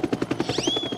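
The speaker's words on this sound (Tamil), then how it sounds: "ஓ நோ, ஹெலிகாப்டர் இந்த பக்கமா தான் வந்துகிட்டு இருக்கு." A cartoon helicopter draws closer: steady rhythmic rotor chopping fills the moment, and a rising, brightening whine slides in halfway through and then holds as it nears.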